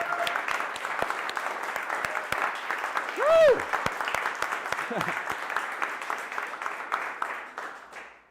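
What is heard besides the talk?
meetup audience applause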